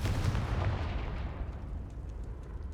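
A Confringo fire spell exploding in the game Hogwarts Legacy, a booming blast that rolls off into a long rumbling, fading decay, with no voice over it.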